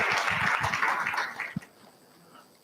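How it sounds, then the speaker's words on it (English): Audience members at a directors' and policymakers' conference in Nigeria applaud a speaker, a fairly faint burst of clapping that fades out after about a second and a half. "Can we please give her another round of applause?"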